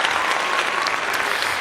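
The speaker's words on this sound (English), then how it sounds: "If it does, another round of applause for you." Dense applause from an audience at a critical care presentation, a steady close wash of clapping filling the whole short stretch without a break.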